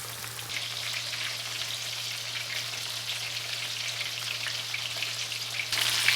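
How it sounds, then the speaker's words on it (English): Chicken cutlets frying in oil in a pan, three or four at a time, give a steady, dense sizzle that holds at an even level throughout and rises slightly at the very end, with no voices. "I'm just gonna add some cutlets into the pan"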